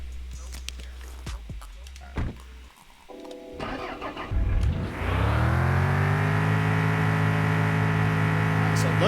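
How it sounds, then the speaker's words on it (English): A car in the video game Mon Bazou drives through water, its engine starting and then holding a steady, loud drone with rising harmonics, preceded by brief clunks and knocks. "So luckily, the car can just drive in water."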